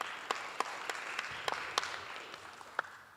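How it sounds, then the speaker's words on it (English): Audience at a dental festival talent show applauding, a short burst of scattered clapping from a modest crowd, steady then thinning out with a few sharp individual claps. "So let's give a big round of applause to our sponsor"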